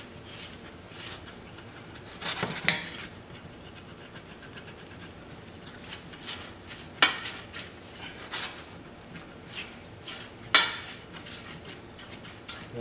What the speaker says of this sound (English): Browning flour like this, I just basically cook it to the color I like.